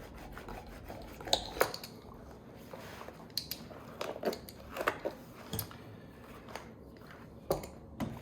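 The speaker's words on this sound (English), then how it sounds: "And I'm rolling against the glass." Glued latex pattern pieces for a large inflatable suit are pressed and rolled against a glass surface, giving soft, close rubbing and squishing with scattered sharper squeaks and taps, quiet and with no talking.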